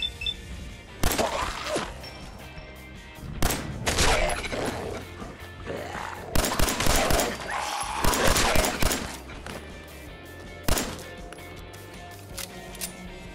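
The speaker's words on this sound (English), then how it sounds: "Machine gun turret." A machine gun turret in Fallout 4 fires repeated sharp bursts between metallic clanks and crashes, bunched into loud clusters with brief pauses in between.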